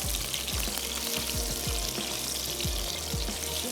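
Steady, close sizzling and crackling of meat frying in hot oil over low heat, with occasional soft pops, continuous throughout.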